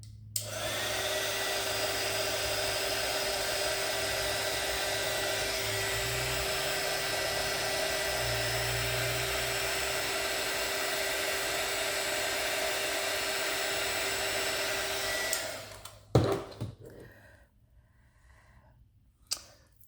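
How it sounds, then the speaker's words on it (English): A heat gun gives a steady, loud blowing whir with a constant high whine for about fifteen seconds, then cuts off, followed by a few faint handling knocks. "You don't want to do the heat gun too close"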